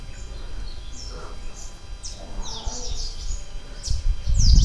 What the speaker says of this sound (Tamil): இந்த மரத்தில் வந்து எவ்வளோ குருவிகளோட சத்தத்தை பாருங்களேன்